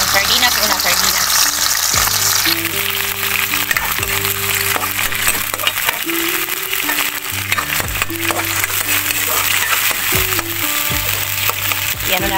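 Sardines and green beans sizzle loudly in a pan while being stirred, with the crackle of frying running throughout and the clink of a utensil scraping the pan at intervals.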